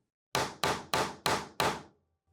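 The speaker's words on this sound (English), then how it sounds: "so I'm going to go ahead and hammer that down a little more." Glued pieces of a DIY candy dispenser are struck five times by a hammer in quick, evenly spaced, sharp knocks, close and fairly quiet.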